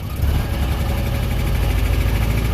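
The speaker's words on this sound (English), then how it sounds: "This engine is equipped with electronic ignition." Engine with electronic ignition running steadily, one that smokes a little and won't take full throttle; a continuous, fairly loud, low rumbling idle with no break across the whole stretch.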